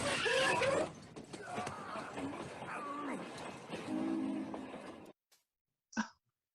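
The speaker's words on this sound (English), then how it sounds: "That's got to be when he jumps on the train, right?" Train sounds from the film O Brother, Where Art Thou: clanking, creaking rail-car mechanisms with rumbling motion and scattered vocal noises, ending abruptly in near-silence with a brief final thump.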